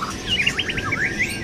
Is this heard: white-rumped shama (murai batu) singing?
yes